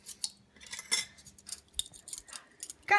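Spoons and forks clink and tap sharply as they are laid out to set a table, in irregular bursts with quiet gaps between them.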